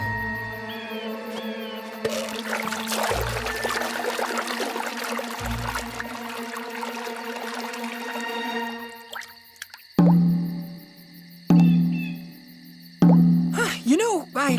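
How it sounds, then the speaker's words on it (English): A cartoon water drip falls in three loud, resonant plops spaced about a second and a half apart, following a busy stretch of music and voices. "Witness, you will, the dreaded drip of doom!"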